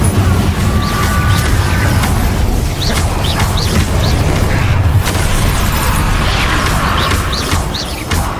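Incendio fire spell blasts erupting in a Hogwarts Legacy fight, loud rolling booms and crackling bursts of flame repeating over dense combat noise, with no voices.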